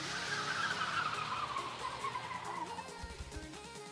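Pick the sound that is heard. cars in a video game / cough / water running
cars in a video game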